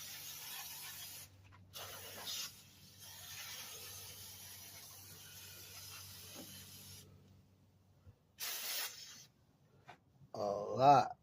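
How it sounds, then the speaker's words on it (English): Spray cleaner hisses onto a greasy, leaking power steering line in short bursts separated by quiet gaps, with a louder spurt near the end. "all that grease, we're gonna try to spray that down"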